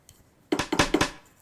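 Three sharp woody side-stick clicks from a Pyle TED01 electronic drum pad, struck in quick even succession, close and clear with a short decay.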